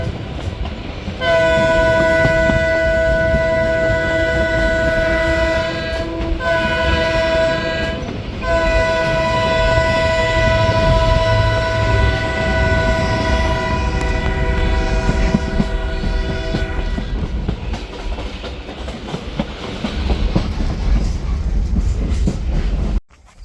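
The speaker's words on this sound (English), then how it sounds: "we get to hear BN1's very unique horn as we go over the crosshead" BN1 diesel locomotive sounding its distinctive multi-chime horn in long, loud blasts with brief gaps, over the continuous rumble and clatter of a passing train, recorded close by at a railway museum diesel event.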